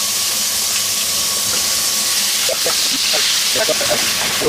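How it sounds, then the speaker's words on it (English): Mince browning in a hot pan for a spaghetti bolognese, a loud continuous sizzle and hiss with small crackles and pops that pick up in the second half. "Brown up the mince."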